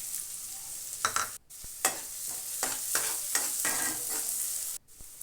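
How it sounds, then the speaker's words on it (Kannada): Chopped onions frying in a little hot oil in a pan, a steady close sizzle broken by bursts of stirring and scraping, no voices. "ಪ್ಯಾನ್ನ ಬಿಸಿ ಮಾಡೋದಕ್ಕಿಟ್ಟು ಅದಕ್ಕೆ ಸ್ವಲ್ಪ ಆಯಿಲ್ನ ಹಾಕಿ ಚಿಕ್ಕದಾಗಿ ಕಟ್ ಮಾಡಿರೋಂಥ ಈರುಳ್ಳಿನ ಸೇರಿಸಿ ಚೆನ್ನಾಗಿ ಫ್ರೈ ಮಾಡ್ಕೊಳ್ಳಿ"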